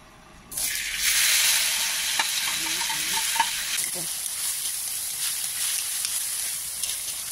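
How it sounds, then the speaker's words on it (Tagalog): Tofu drops into hot cooking oil and sets off a loud, close sizzle that starts abruptly and stays steady, with a few faint utensil clinks along the way. "Lagyan na natin si tokwa kasi mainit na yung mantika."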